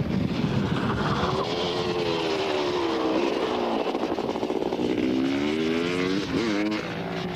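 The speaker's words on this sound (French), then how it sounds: "passe des heures à rouler avec sa moto de supermotard" A supermoto motorcycle circles a kart track at Salon de Provence in 1994, its engine droning steadily and loud throughout, with rising and falling pitch sweeps as it accelerates, shifts and brakes through the laps.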